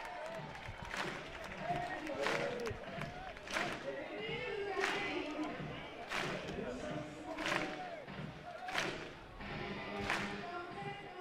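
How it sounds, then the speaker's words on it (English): Fans at a college baseball game at Lindsey Nelson Stadium clap in steady rhythmic unison, fairly distant, beneath a commentator talking over the crowd. "Hands at Lindsey Nelson Stadium clapping together for Billy Amick"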